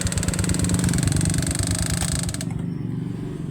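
A Suzuki Smash 115 motorcycle engine, which has a kick-start problem and a noisy third gear, runs close and loud with a steady rapid pulsing idle that drops to a quieter, softer idle partway through.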